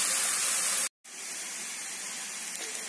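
Brinjal slices shallow-frying in a little oil give a steady, close hiss that cuts out for a moment and then resumes evenly, with no voices.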